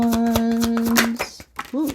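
Tarot cards laid out for a reading, a quick run of soft slaps and shuffling snaps over a sustained tone, with a voice speaking briefly near the end.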